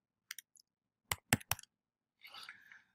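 A currency pair, the pound against the New Zealand dollar, being typed on a computer keyboard: a few crisp, close key clicks in short clusters, followed by a brief fainter rustle.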